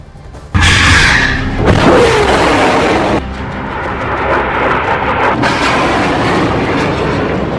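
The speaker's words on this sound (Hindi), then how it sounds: "पहला रॉकेट, फिर फायर हुआ दूसरा रॉकेट, इसके बाद लॉन्च हुआ तीसरा रॉकेट।" Rockets fired and launched by Hamas, a sudden loud roaring blast followed by sustained rushing thunder, with a second surge of noise as another launch kicks in, steady and powerful throughout.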